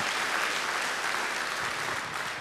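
A church congregation claps together in a sustained, dense burst of applause, even and fairly loud throughout, with no voices standing out.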